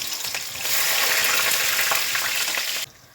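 Onion hits hot oil already tempered with black cumin, bay leaf and cinnamon, and the sizzle swells into a loud, hissing crackle that holds steady before cutting off abruptly near the end.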